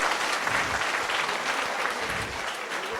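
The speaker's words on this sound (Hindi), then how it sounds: "जोरदार तालियां।" Loud, sustained applause from a standing audience at a live student memory-training event in a wedding hall, dense clapping filling the whole stretch without pause.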